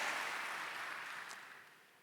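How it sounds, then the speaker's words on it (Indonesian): Church congregation applause during a Kingdom Celebration service, a dense wash of clapping that starts full and steadily fades away over two seconds, heard from a distance without talk. "Tepuk tangan bagi Allah kita"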